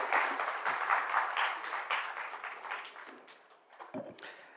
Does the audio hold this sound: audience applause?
yes